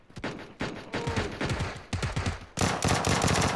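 Loud gunfire bursts from a weapon in PUBG (PlayerUnknown's Battlegrounds), several separate volleys of rapid shots followed by a denser, sharper run at the end, close and unaccompanied by talk.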